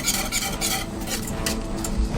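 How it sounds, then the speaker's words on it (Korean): Homemade lacquer adhesive for mother-of-pearl inlay stirred as it boils, giving a continuous close scraping and swishing with bubbling sizzle, steady throughout with no voices. "끓이는 내내 저어주지 않으면 눌러붙는다고 하네요"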